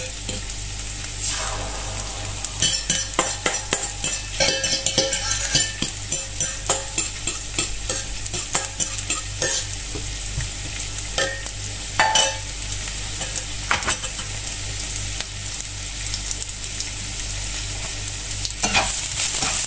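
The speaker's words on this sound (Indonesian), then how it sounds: "Aku mau gorengin dulu nih telur dadarnya." Steady sizzling of an omelette frying in a hot pan, with occasional scraping and stirring clicks from a utensil, continuous throughout with no talking.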